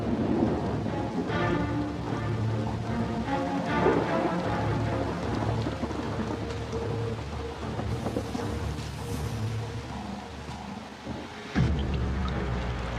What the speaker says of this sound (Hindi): गर्मियों के दौरान लुआंगवा में लगभग रोज ही बादल गरजते हैं और